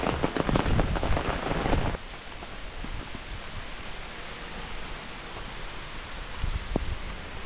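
Steady hiss of rain falling on a mountain hike on Mt. Guiting-Guiting, Philippines, heavier and denser in the first two seconds, then a softer continuous patter with a few isolated drops.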